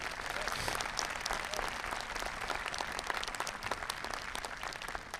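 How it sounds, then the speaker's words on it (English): At the 2021 Marblehead High School graduation, the audience gives parents and guardians a sustained round of applause, a thick steady crackle of many clapping hands with no voice over it. "Let's give them a round of applause"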